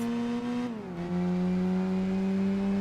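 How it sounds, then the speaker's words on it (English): The boxer four engine of a Subaru Legacy in Gran Turismo 4 drones loudly and steadily, its pitch dipping briefly as the car shifts or lifts before settling into a constant hum. "A Boxer 4 engine."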